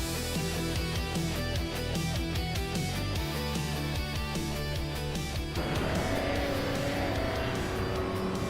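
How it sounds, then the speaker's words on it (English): Can-Am race cars, including a Chaparral 2J, roaring off the start at Autodromo Lago Maggiore GP Reverse in a racing game, with a dense, loud, continuous blend of revving engines and gear changes that shifts to a higher roar partway through. "the race is underway at Autodromo Lago Maggiore GP Reverse"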